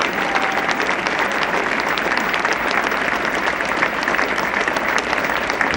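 A cricket crowd at Lord's applauds a Pakistan batsman during the 1974 Test against England. The clapping is continuous and moderately dense, spread across the ground, and comes without commentary over it.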